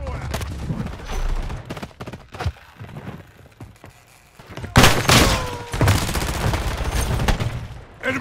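Bursts of gunfire in a military shooter game crack out in clusters, with a loud, dense volley near the middle and more sustained shooting after it, while game radio chatter sits faintly underneath.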